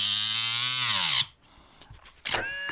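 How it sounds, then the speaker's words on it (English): A cordless rotary tool fitted with a cutoff wheel whines at a high pitch, its tone sliding downward as it bogs into Lexan. The noise cuts off, leaving a short quiet gap, then the whine spins back up at close range. "change this out real quick to the cutoff wheel and see how that does"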